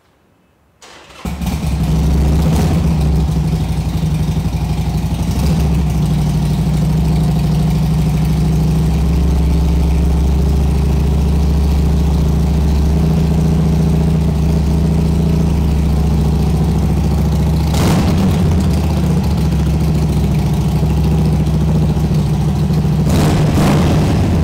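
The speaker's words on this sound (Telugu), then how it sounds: "ఇది సౌండ్ చాలా పెద్దది ఎందుకంటే 2 పెద్ద ఇంజన్ కాబట్టి 883 cc కాబట్టి సౌండ్" A 2012 883 cc twin-cylinder motorcycle fires up after a brief quiet moment, then settles into a loud, steady, deep idle that runs on uninterrupted and close.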